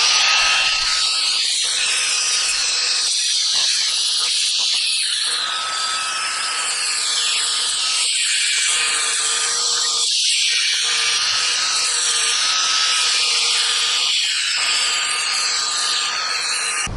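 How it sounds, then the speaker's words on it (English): A power grinder works down the bottom of a metal bracket during an H22 engine install in an AWD-swapped Honda Accord CB7, a steady loud high-pitched whine that runs throughout with brief dips as the tool lifts off the part. "what I'm going to do is just grind down the bottom a little bit"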